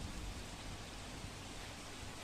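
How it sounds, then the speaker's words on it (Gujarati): Heavy night rain pours steadily over the city of Valsad, a dense continuous hiss with no breaks. "વલસાડ શહેરમાં મોડી રાત્રે ધોધમાર વરસાદ વરસી રહ્યો છે।"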